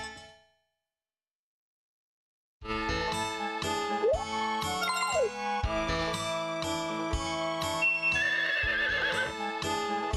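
A horse in Harvest Moon 64 gives a bright synthesized whinny over a chiming game melody with clip-clop beats, following a brief moment of silence.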